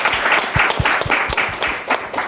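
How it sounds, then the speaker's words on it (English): An indoor town hall audience breaks into applause, a brief dense burst of many hands clapping, loud and close. "I want to give everybody in the room a round of applause for being present here today."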